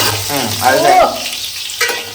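A curry mixture sizzles steadily in a hot pan while it is stirred and sautéed, with a loud sputtering hiss that rises and falls under a few scraping stirs.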